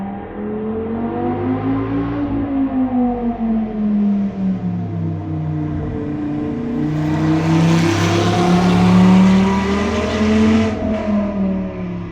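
A powerful Dodge Viper engine revs steadily, its pitch sliding up and down in long sweeps, growing louder and brighter near the middle before easing off.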